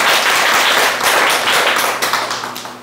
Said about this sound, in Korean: 지금 생방송인 중인 관계로 이 정도 박수로는 안 되는데 진행하겠습니다.